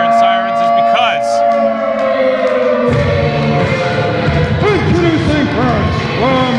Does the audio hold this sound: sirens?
yes